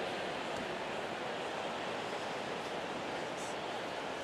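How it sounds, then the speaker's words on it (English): A dense, steady roar of a large tennis crowd echoing through the stadium at the 2018 US Open semifinal, loud and unbroken for the whole stretch. "And you can hear the crowd very loud, and Mariana Veljovic trying to calm this cr"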